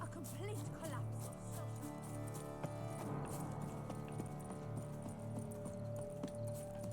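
Horse hooves clip-clopping at a steady riding pace in The Witcher 3: Blood and Wine, a continuous rhythmic patter under game music and a speaking voice.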